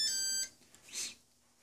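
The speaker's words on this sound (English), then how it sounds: "When it beeps, then we're going to turn the radio on." A Walkera TALI H500 drone powering up gives a short burst of bright, high-pitched electronic beeping at the start, followed by a brief faint chirp and then near silence.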